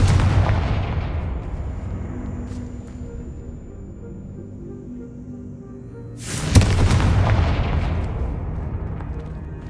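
A Confringo fire spell in Hogwarts Legacy bursts as a loud booming explosion with a long rumbling decay, followed a few seconds later by a second heavy blast that rolls away slowly.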